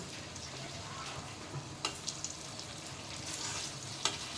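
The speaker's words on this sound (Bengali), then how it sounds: "আর একদম ধিমে আছে আমি এগুলো ভাজছি" Dahi vada fritters fry gently in oil over low heat, giving a soft, steady sizzle with faint crackles and a few small pops, close by and quiet, with no talking.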